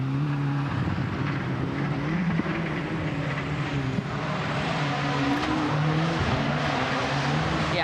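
Rally car driven by Takamoto Katsuta on a forest stage, its engine droning and shifting pitch as it revs, steady and fairly close with no voices.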